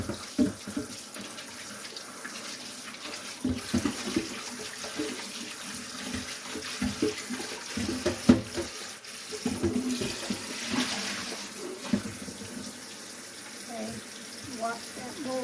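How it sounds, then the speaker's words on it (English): Tap water runs steadily into a pan in a home kitchen while blueberry jam is being made, a continuous moderate gush with faint clatter and quiet voices now and then. "And I'll just leave that in there and I'll start pouring water in it."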